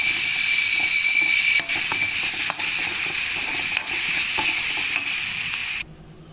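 Vangyache bharit, a mashed eggplant dish, being stirred and mixed in a pan, giving a steady broadband sizzling hiss with scraping strokes that stops abruptly near the end.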